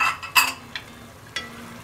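Minced meat with tomatoes and lemon juice stirred in a pan, with a few scraping spoon strokes and a faint sizzle underneath, close and fairly quiet.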